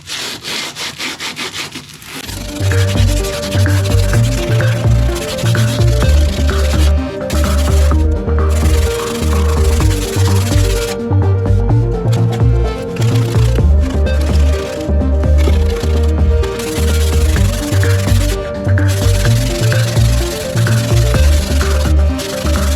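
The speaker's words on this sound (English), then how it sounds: "this is 60 grit sandpaper" Dry fiberglass on a car body is sanded by hand with 60 grit sandpaper in loud, close, steady back-and-forth rasping strokes that continue without a break and with no voices.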